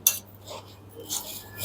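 A spoon mixing churumuri bhel puri in a bowl, giving a few soft metallic clinks and scraping stirs, close and fairly quiet with pauses between them.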